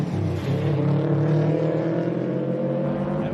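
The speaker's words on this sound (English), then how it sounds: "Let's watch her come through in the wagon." A rally wagon charges through a stage of the Adelaide Hills Rally at Clarendon, its engine droning and shifting pitch as it passes at moderate distance, steady throughout with no talk.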